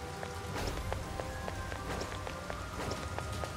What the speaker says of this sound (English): Is this what they call rain?